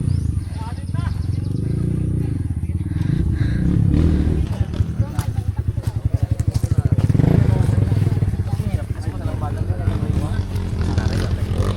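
An enduro motorcycle engine revs and idles with a rough, pulsing rumble close by at an endurocross event in Brookes, mixed with people talking over it.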